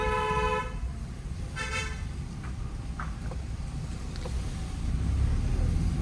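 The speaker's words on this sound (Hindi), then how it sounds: "लॉन्ग हॉर्न प्रेस करो।" Car horn held down in one long press, mid-loud over steady engine and road noise while driving in city traffic, with brief fainter honks from other vehicles nearby.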